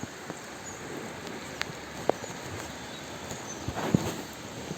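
Steady rain falling outdoors in a village near Kotdwar, a continuous broad hiss with scattered louder drops and taps throughout, no talking.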